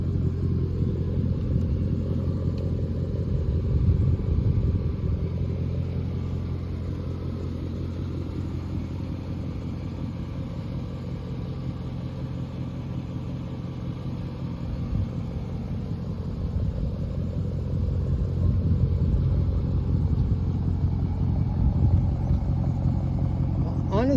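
Straight-piped 2002 Mercedes CLK430, a car that had sat unused for a couple of years, running with a steady deep low rumble, loud and close, swelling slightly at times, with some talk faintly underneath.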